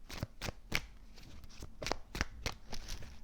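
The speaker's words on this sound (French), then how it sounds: "Je vais remettre une carte pour vous, amis vierges." A tarot card drawn from the deck and set down, heard as a handful of crisp, close card snaps and slides in an uneven rhythm, with no talking over them.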